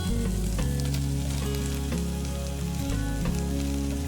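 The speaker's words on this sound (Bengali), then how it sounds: "ভেজে রাখা আলুটা ঢেলে দিয়েছি" Fried potatoes tipped into a hot pan with chickpeas sizzle loudly and steadily, a dense continuous fry with a low hum beneath and no talking.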